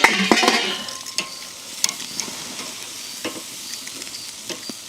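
Peppers roast and get stirred in a hot pan, a steady sizzle broken by scraping and clattering stirring taps, close and without talk.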